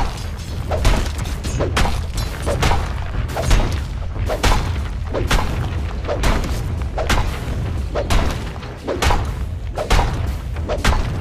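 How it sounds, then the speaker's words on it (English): Dota 2 battle as a bottom tower comes under attack and falls: loud, dense, repeated thuds and booming impacts in a rapid irregular barrage with crunching, shattering hits, continuous throughout. "Dire's bottom tower is under attack. Dire's bottom tower has fallen."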